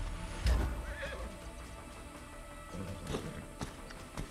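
A horse in the Far Cry 6 video game gives a faint whinny over a low ambient game soundscape, with a few soft hoof clops scattered through the quiet background.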